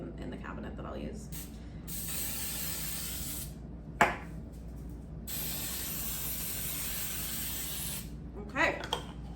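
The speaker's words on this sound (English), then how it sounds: "I do have some spray olive oil or something in the cabinet that I'll use." Olive oil cooking spray hisses out of the can in two long, steady bursts, close and fairly loud, with a few clicks and knocks between them.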